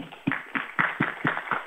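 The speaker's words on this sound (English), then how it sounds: "let's end with a last round of applause for all the people who have worked hard" Audience applause at a technical product review meeting, heard as a small group of sharp, evenly spaced claps in a steady rhythm, fairly close and moderately loud.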